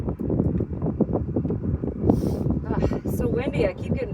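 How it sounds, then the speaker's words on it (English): Strong wind gusting across a farm homestead in Indiana during winter storm preparations, rumbling against the microphone with bursts of rustling, under steady talk from a person nearby. "It's so windy, I keep getting pine shavings blown up into my eyes."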